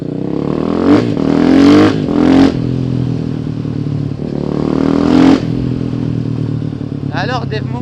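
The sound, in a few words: KTM 500 EXC-F motorcycle engine riding through small streets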